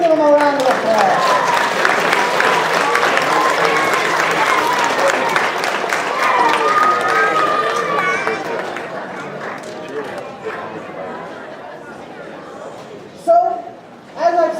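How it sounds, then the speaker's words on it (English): A large audience at a university chemistry demonstration night bursts into loud, sustained applause with cheering, fading after about ten seconds to lighter clapping and murmuring crowd noise. "Let's give them a round of applause."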